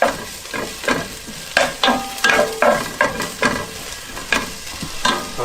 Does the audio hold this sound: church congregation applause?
no